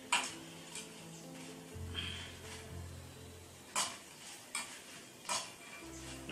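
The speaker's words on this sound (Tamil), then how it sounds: "கொத்தவரங்காய் வத்தலை வந்து அப்படி வணக்கிக்கணும்" Dried cluster bean vathal stirred and frying in a pan, with soft sizzling under intermittent scraping and clinking stir strokes, close and fairly quiet, no talk.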